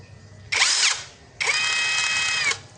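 A Corolla 16V brushless drill driver whines in two close bursts, a short run then a longer one, each spinning up with a rising pitch while the gears grind audibly out of mesh.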